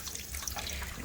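Water running out of an old Nordica 16 boat through its drain, a close, continuous splashing trickle with no talking.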